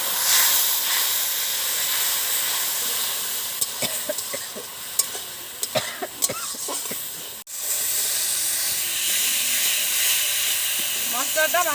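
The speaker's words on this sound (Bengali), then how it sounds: "ভালো করে আমরা কষে নিয়েছি। এই দেখো মশলাটা শুকনো শুকনো হয়ে গেছে। মশলা কষা হয়ে গেছে।" Ground spices, including chili powder, fry in oil with a small splash of water for a jackfruit curry, giving a loud, steady sizzle and hiss broken by scraping stirs and one brief dropout, with faint talking.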